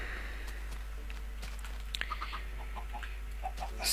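A chicken clucks faintly in a video game chicken farm, a handful of short, soft clucks against a constant low background hum.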